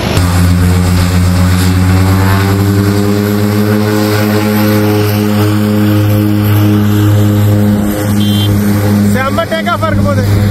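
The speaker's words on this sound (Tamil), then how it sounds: "Take off." A small propeller plane takes off from an island in Fiji, its engine a loud, steady droning hum that fills the whole clip, with voices briefly heard beneath it.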